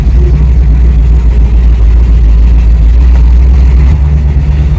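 1968 Camaro fitted with nitrous and a 5-speed conversion, heard from inside under a loud, steady low engine rumble as it drives off, with continuous road noise and no clear gear changes.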